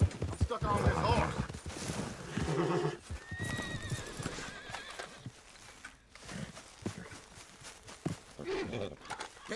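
A horse whinnies over clip-clopping hooves, with someone talking and background game sounds mixed in, in the video game Red Dead Redemption 2.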